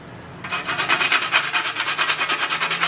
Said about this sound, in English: Next, we will grate just a bit of nutmeg in.